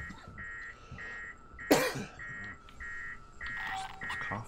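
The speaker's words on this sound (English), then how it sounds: "This cough is not good." A single harsh cough bursts out near the middle amid a video game's ambience, set against a repeating electronic beeping pattern of short tones and a low background hum.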